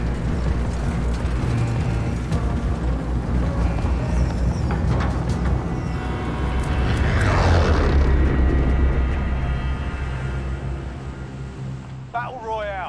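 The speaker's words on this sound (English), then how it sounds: "That plane is such a beast." Airplane engine roaring in Call of Duty Warzone on Xbox Series S, a loud sustained drone that swells to a peak midway, heard under a person talking throughout.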